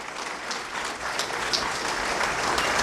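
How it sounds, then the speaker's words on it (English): Audience applauding Mike Medved and Mike Gallagher at the Liberty Forum, a steady sustained clapping from a crowd filling the room throughout, moderately loud with no talking over it. "Let's give Mike Medved and Mike Gallagher a nice round of applause."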